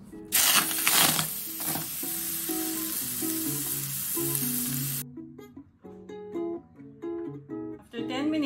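Pork belly fries skin side down in a pan with a loud, crackling sizzle and sharp spitting pops, which then drop back to a quieter hiss as a person speaks over it.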